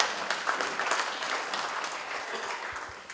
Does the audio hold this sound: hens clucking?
no